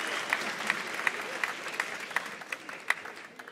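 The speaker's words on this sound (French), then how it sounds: "Applaudissez-les encore, vos mains, elles vont chauffer ce soir" Audience applause at a popular-culture awards ceremony, a steady wash of clapping with sharper individual claps standing out at a regular pulse, as if the crowd claps rhythmically, sustained throughout.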